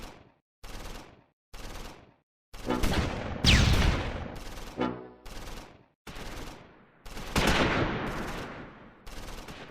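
Machine gun fire in Close Combat 4, a World War II Battle of the Bulge game, with repeated sharp bursts separated by short silences, some longer rattling volleys, loud and close with no talking.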